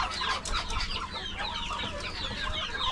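Darag chickens cluck and chatter busily on a farm, several birds close by in overlapping calls with no pauses, under a dense outdoor background.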